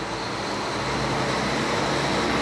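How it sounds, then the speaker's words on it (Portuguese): A truck rumbles past on a nearby road beside an orchid growing area, a steady broadband roar with low engine drone holding loud throughout, no voices over it. "esperar o caminhão passar, tá fazendo barulho"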